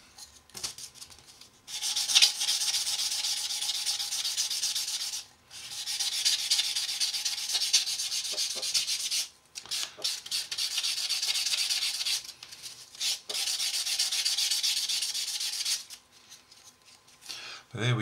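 A sanding sponge rubs over a model repaired with CA filler in three long bursts of close, hissing, scratchy strokes separated by short pauses, with a voice speaking briefly between them.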